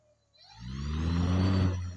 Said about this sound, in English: I'm going to wrap back the throttle.